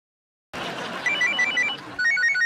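A phone rings in short repeated electronic trills over busy background noise, fairly loud and close.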